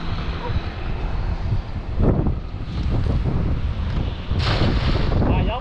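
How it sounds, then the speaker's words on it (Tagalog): Strong wind roars and buffets the microphone outdoors while people fish with a cast net. The gusts are loud and steady, surging sharply at a couple of points. "Lakas ang hangin."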